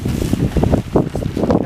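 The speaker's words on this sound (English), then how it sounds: "as soon as we unpeg it, it gets windy" Wind gusts buffet the microphone outdoors while a tent is unpegged and packed, a continuous rough rumble with uneven surges and no voices.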